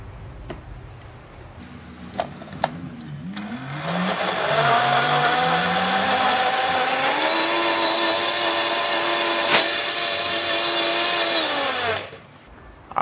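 A blender beats batter made with sifted wheat flour, its motor spinning up with a rising whine, then holding a loud, steady buzzing hum for several seconds before cutting off, alone without speech.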